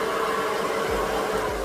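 Hair dryer blowing on damp hair, a steady close whooshing airflow roar that holds for the whole short stretch with slight low rumbles, no talking.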